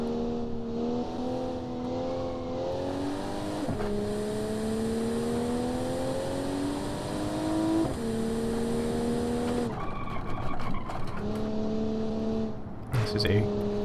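A car engine in BeamNG.drive, a Bay12 Motors 1988 model, drives laps on a racetrack. Loud, sustained revving rises and falls through several gear changes as it corners, with a voice talking over it.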